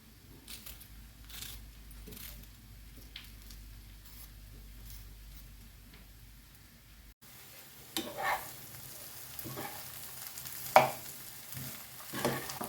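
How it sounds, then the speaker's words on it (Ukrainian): Eggplant frying in a pan with a soft, steady sizzle, joined by occasional stirring scrapes and clicks that grow busier toward the end. "Баклажани йдуть в сковорідку. Хай смажиться."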